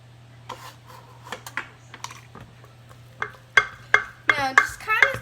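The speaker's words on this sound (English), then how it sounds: "don't be scared to get right into your mixing bowl and scrape" Utensil scraping blueberry muffin batter out of a mixing bowl, light scratchy strokes at first that grow into several louder, close scrapes toward the end.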